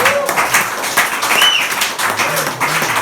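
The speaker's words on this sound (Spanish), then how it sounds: "¿Cuánto le dan un aplauso a Dios?" Church congregation applauding during a sermon, a broad wash of clapping with scattered voices and cheers mixed in, fairly loud and steady throughout.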